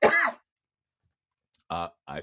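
A short throaty cough bursts out, then after a silent pause a person speaks a couple of brief words.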